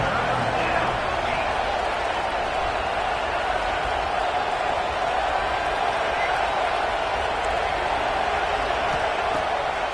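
Stadium crowd at a college football game between North Carolina and Ole Miss, a dense, steady roar of voices and cheering held at constant loudness before a third-down play, with no single voice standing out.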